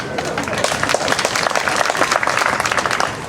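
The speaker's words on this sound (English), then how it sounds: "Big round of applause to yourselves." Volunteers and audience at a House of Hungary gathering give themselves a round of applause, loud dense clapping with scattered cheers, sustained throughout.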